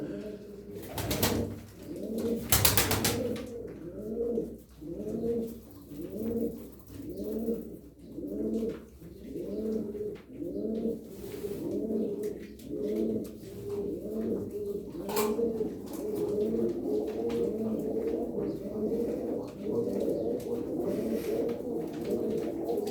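Çorum naked tumbler pigeons coo in a steady, repeating rhythm through the whole stretch, several birds close by with overlapping low throaty calls and a couple of brief louder knocks near the start.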